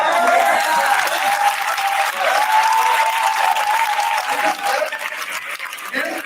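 An audience applauds steadily, a broad wash of clapping that holds for several seconds before tapering slightly, with a faint tone running underneath.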